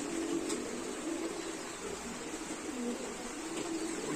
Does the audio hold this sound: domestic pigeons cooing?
yes